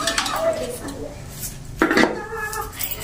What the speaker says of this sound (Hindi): अभी हम इनको ना प्लेट में निकालते हैं।